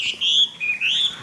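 Vietnamese hwamei songbirds (họa mi) sing a short burst of high, sliding whistled notes, loud and close, in three or four quick connected phrases with no voices.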